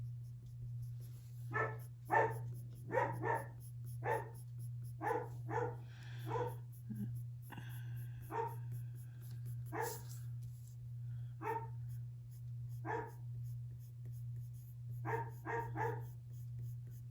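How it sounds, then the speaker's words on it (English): A dog barks repeatedly in short clustered bursts, a few sharp barks at a time with pauses between, fairly close, over a steady low electrical hum. "Badass watchdog. Barking at nothing."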